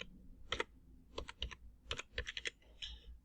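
Bursts of keystrokes on a computer keyboard while entering text in a web browser, coming in quick irregular clusters with short pauses between them, close and fairly quiet.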